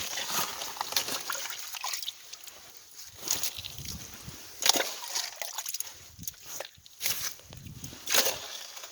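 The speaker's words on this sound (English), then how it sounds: "Try to get some of this water out of here." Water sloshing and trickling as it is scooped out of the pit around an outdoor frost-free hydrant, with irregular splashes and drips at close range.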